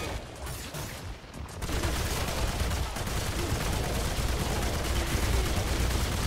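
Weapons fire in a Remnant 2 fight, a dense, continuous wash of rapid shots and blasts that swells after a quieter opening second and stays loud and steady throughout.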